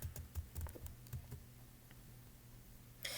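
Computer keyboard typing in a quiet room, a short burst of separate clicking keystrokes at first, then a pause and a sharper clatter of keys at the very end.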